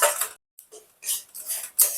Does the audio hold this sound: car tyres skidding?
no